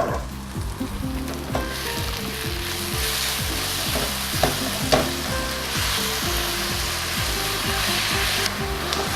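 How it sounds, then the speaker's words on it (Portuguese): Onion caramelizing with brown sugar sizzles and crackles in a hot pan, a dense, even frying hiss broken by soft stirring scrapes, with no voices over it. "é hora de caramelizar a cebola"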